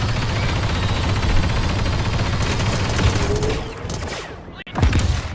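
Sentry guns in Star Wars Battlefront 2 fire a dense, rapid stream of close, loud shots that runs for several seconds, briefly cuts out and then resumes, with no talk.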